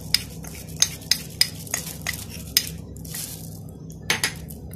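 Cornstarch being stirred into a summer fruit dessert mixture: a spoon scrapes and clinks against a pot in a series of sharp, close taps over a soft, steady stirring swish, with no talking.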